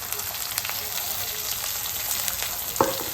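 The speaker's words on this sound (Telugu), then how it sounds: "చూడండి బాగా ఫ్రై అవుతున్నాయి" Green chilli pieces fry in hot oil in a pan, a close, steady sizzle with faint crackles and one brief clink of a spoon near the end.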